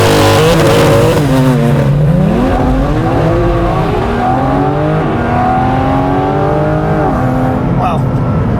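Porsche GT4 RS race car accelerating hard on a wet track, engine climbing through several gear changes with rising and dropping pitch, loud and close, with voices talking over the engine.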